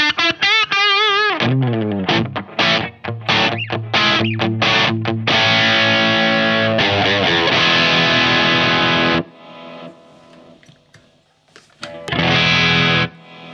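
An electric guitar played through a Boss SD-1 overdrive pedal set as a clean boost, with drive down and level up. Lightly driven single notes and riffs lead into a ringing strummed chord, then a pause and another loud chord.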